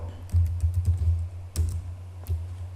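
Computer keyboard keys tapped while a command is entered during network switch configuration, giving a short uneven run of close, crisp clicks followed by a few separate keystrokes, with no talk.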